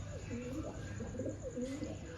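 Pet pigeons cooing softly in a repeating series of low, throaty calls, close by in a loft, over a steady background hum.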